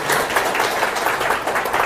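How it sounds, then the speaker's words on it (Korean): An audience at a lecture applauds a lawmaker, a steady dense round of clapping filling the room at even loudness for a couple of seconds. "자 여러분 김용희 의원님을 위해서 박수 한번 보내주시기 바랍니다"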